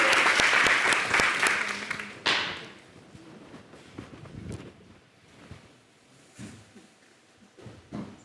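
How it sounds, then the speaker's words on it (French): A TV studio audience claps loudly for about two seconds before the applause cuts off abruptly, leaving scattered taps, shuffling and faint room noise. "et ça s'applaudit."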